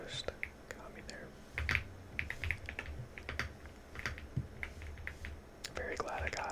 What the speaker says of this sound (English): It's called a creamy keyboard. Kind of a weird name, but it sounds really nice